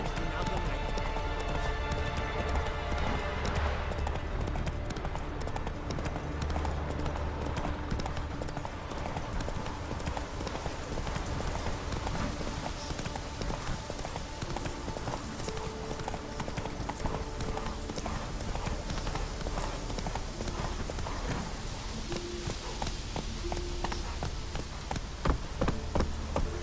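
Roach, the horse in The Witcher 3, galloping with rapid, steady hoofbeats that carry close and loud throughout, over an ambient game music bed.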